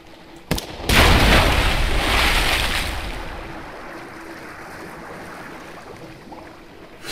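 A video game cannon in Sunless Sea fires once with a sharp crack followed by a heavy blast, which rumbles and slowly fades into a low, lingering wash.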